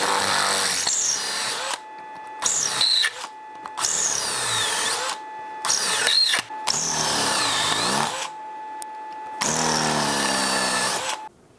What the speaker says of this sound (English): Let's try to drill out this mess.